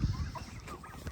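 Pasture-raised turkeys on a small farm give short, faint gobbling clucks, a brief cluster of low calls close by with no voices.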